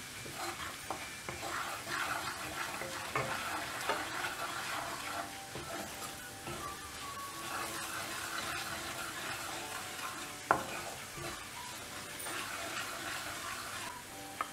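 Chilli powder, garam masala and cumin powder being stirred into sundal masala in a pan, a steady scraping and sizzling that runs throughout with occasional sharp clicks of the spoon.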